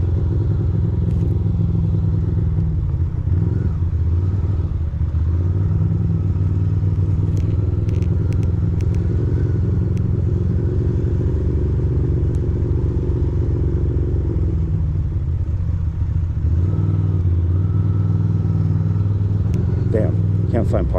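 A motorcycle rides along on the road with a steady, loud, low engine drone and some clattering rattle throughout.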